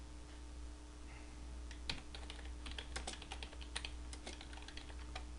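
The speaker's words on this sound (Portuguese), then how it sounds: "Então eu vou digitar aqui" Fingers tap out a short burst of keystrokes on a computer keyboard, with rapid uneven clicks, quiet but close, over a faint steady hum and no talk.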